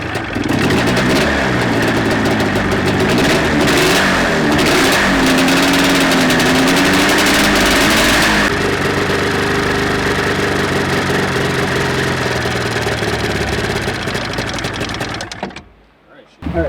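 A Polaris RMK snowmobile engine starts and runs loud and close, holding a steady droning idle with a rising and falling rev partway through, and people talk over it before it cuts off near the end.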